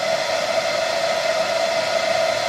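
A hair dryer blows 181-degree air in a steady, unbroken whoosh with a constant motor whine, loud and close, with no talk.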